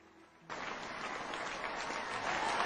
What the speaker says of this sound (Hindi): जोरदार ताली से वेलकम करें।